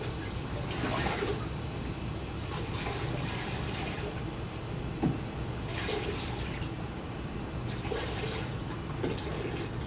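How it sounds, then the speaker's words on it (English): Water splashes and trickles as a big wet sponge is wrung out during clean-up after throwing a pot on the wheel, a continuous close, fairly loud wash of dripping and streaming with a few sharper splashes. "Wring out the big sponge if you can."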